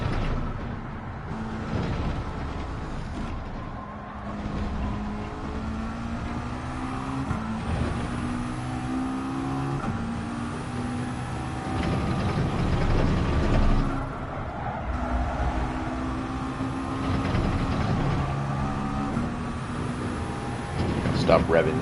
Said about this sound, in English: Stop revving this car out.